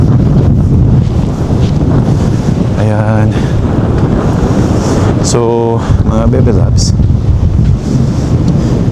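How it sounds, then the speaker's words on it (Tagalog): Strong gusty wind buffets the microphone on Al Mamzar Beach in Dubai, a loud constant low rumble with surf beneath, while someone speaks briefly over it. "Sarap ng hangin."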